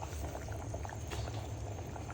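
Lentil dal boiling under a lid in a pot, a steady close bubbling and gurgling that carries on without a break.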